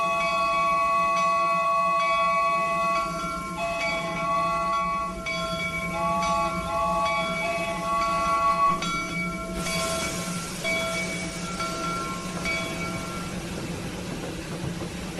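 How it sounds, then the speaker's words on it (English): A train rumbles by with sustained whistle-like tones over a steady low drone, loud and close. "I hear train sounds."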